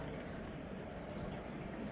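Tap water runs steadily from a kitchen sink faucet into pie crust dough for an apple strawberry rhubarb pie, a continuous, fairly faint broadband pouring hiss with no speech.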